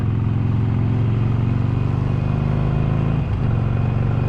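A Harley-Davidson Sportster V-twin motorcycle engine rumbles steadily at idle, deep and loud with a pulsing, uneven beat, close by and constant throughout.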